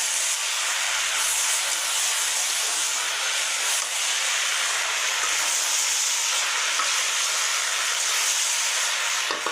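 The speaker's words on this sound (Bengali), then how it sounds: "আমি হলদি ভাজি করছি" Turmeric frying in a hot pan makes a loud, continuous broadband sizzling hiss that holds steady and close for the whole stretch, with no talking.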